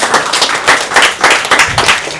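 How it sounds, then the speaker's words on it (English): Two quiz teams give themselves a short round of applause, a close, loud burst of clapping with uneven pulses and no talk over it. "So please give yourselves a round of applause"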